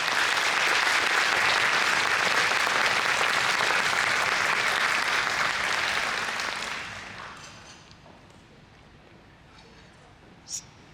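Audience applause at a live keynote event, loud and sustained from many hands, then fading away after about seven seconds, leaving a quiet room with a brief sharp sound near the end.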